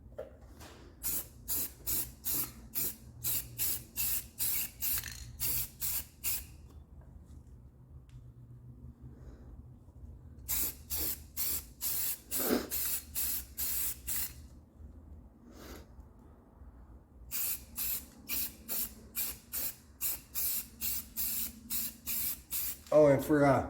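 Aerosol spray hissing onto tire marks in repeated bursts of short rapid pulses, separated by pauses, close and fairly loud with faint background hum.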